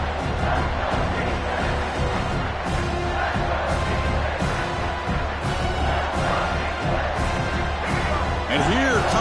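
A stadium crowd in a Florida vs Miami college football video game roars as a continuous wash of noise during a red zone defensive stand, with voices heard over it.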